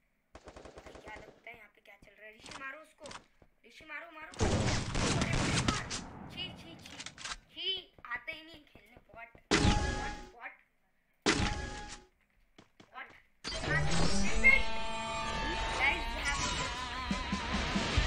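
Gunfire in the mobile game Free Fire: bursts of rapid automatic fire and single shots come in separate volleys, with long stretches of louder sustained shooting, broken by excited voices and quiet gaps.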